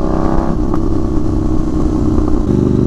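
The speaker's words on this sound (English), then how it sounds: "Obviously the Austin Racing's making a hell of a lot of noise." A Kawasaki Z750 motorcycle fitted with an Austin Racing exhaust drones loudly and steadily up close, its engine note shifting pitch a couple of times as it rides along.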